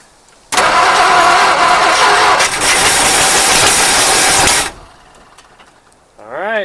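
A long-dormant 1959 Mercury Monterey V8 cranks and catches, roaring loudly for about four seconds before cutting back to a quieter idle, and a voice follows briefly at the end.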